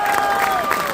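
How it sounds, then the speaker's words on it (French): Crowd applause and cheering for Vendée Globe 2024 skipper Fabrice Amédée of Nexans Wise: a brief, loud, steady wash of clapping with a sustained musical tone running beneath it. "Encore des applaudissements pour Fabrice, s'il vous plaît"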